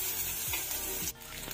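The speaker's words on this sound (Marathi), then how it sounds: "आतां हांव लसूण घालून घेता फोडणी मारपाक" Chopped garlic goes into hot oil in a pan for a Goan tempering and sizzles steadily, with a brief stir or scrape partway through.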